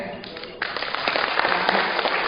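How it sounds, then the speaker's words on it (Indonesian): An audience at a talk breaks into applause, and the clapping quickly swells into a dense, steady roar that fills the room. A speaker's voice sits faintly underneath. "saya mohon aplaus yang luar biasa untuk sahabat saya, Bapak Agus Munajat"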